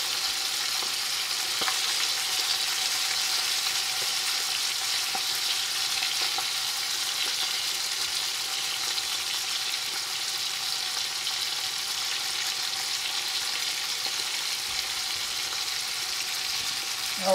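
Floured chicken pieces fry and brown in a pan with a steady, close, even sizzle that runs throughout with no talking.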